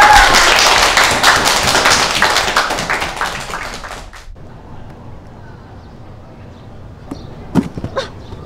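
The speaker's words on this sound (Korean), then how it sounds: "자, 그럼 모두 환영하는 의미에서 박수 한번 치자" A group of people claps together in welcome, a dense, loud burst of applause that fades out after about four seconds, followed by quiet with a few scattered thumps and taps.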